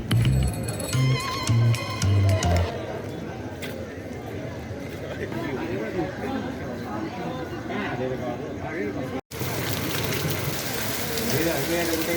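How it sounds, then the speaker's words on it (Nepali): Steady rain pours down outside while people shelter indoors, a dense wash of patter with voices and background activity mixed in underneath. "झरै पानी परेको"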